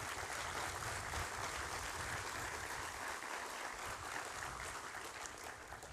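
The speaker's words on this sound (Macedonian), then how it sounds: "И затоа сакам да ве замолам за еден аплауз." An audience claps steadily throughout at a contract-signing ceremony with the e.GO company in an industrial zone in Tetovo. The applause forms a loud, dense wash that holds evenly and eases only slightly near the end.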